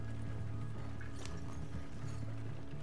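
Rapid clip-clop of horse hooves from a ridden horse in Red Dead Online, a steady galloping rhythm heard alone against a low ambient hum.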